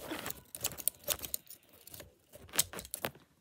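Scissors snip through blue ribbon in a few quiet, crisp cuts spaced irregularly, with light handling noise between them.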